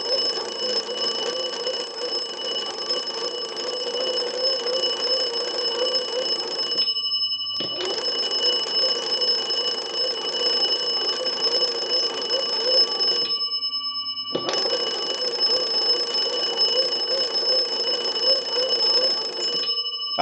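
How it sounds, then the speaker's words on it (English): The bells of a wooden wall crank telephone, driven by its hand-cranked magneto, ring loudly in three long, continuous metallic bursts separated by brief pauses. "we want to go ahead and ring the bells. So we're going to use the magneto."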